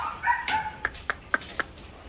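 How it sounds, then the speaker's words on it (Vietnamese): A red-brown German Doberman gives a quick bark, followed by four short, sharp yips in an even rhythm, close by and without any speech. "Giống chó Doberman của Đức."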